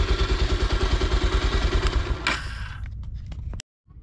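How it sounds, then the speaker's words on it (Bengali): A modified Bajaj Pulsar motorcycle engine fitted with a KTC quick throttle thumps in a loud, steady, rapid pulse up close, then surges into a brief rev with mechanical clatter before cutting off abruptly into silence. "গাড়ি দেওয়ার পরে একটা সাউন্ড হয়, এটা আমার কাছে অনেক বেশি জোস লাগছে"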